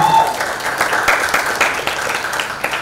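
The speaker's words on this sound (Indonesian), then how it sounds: "Beri tepuk tangan yang meriah untuk MTSN 4 Blitar." Audience at the final round of a school quiz competition held at a museum claps loudly for a winning team, dense sustained applause filling the room, with a faint voice briefly audible underneath.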